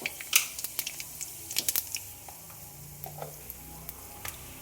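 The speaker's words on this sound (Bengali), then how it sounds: "এবার ওই একই তেলে শুকনো লঙ্কা, তেজপাতা আর জিরে সম্বার দিয়ে দেবো" Dried chilli, bay leaf and cumin seeds hit hot oil in a pan for tempering, crackling in sharp, irregular pops and spits over a soft steady sizzle, close and moderately loud.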